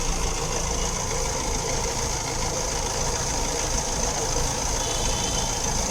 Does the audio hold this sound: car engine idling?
yes